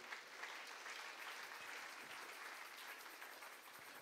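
A church congregation applauds steadily for about four seconds, a dense and sustained clapping that fills the room at an even, moderate level with no talking over it.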